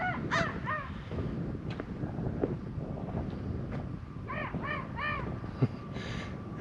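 Several harsh crow-like caws from a man imitating crow calls, in short bursts of two or three, carried over steady wind and a low rumbling background, moderately distant, at China Camp State Park in the San Francisco Bay Area.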